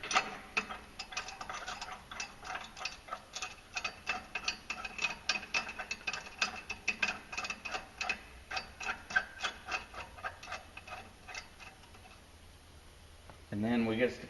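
A torque wrench ratchets on the clutch bolt of a Polaris RZR during a clutch kit install, giving a long run of quick close clicks that stops briefly before a short louder burst at the end.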